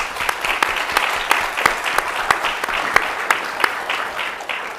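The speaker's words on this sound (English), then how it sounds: "so a round of applause for them" Audience applause at a talk on food and tradition, honoring chefs from KBCC and student helpers: steady, dense clapping from a room full of people, with sharp individual claps standing out throughout.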